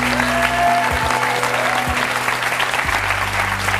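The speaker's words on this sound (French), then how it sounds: "Il s'agit de Juliette, que je vous demande d'applaudir très fort." Studio audience on a French television talk show clapping loudly and steadily to welcome a guest, a continuous dense burst of applause with a low musical hum running underneath.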